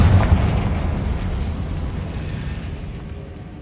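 A Confringo blasting spell in Hogwarts Legacy on PS5 erupts in one heavy, close explosion, a deep boom that rolls on and slowly fades over a few seconds.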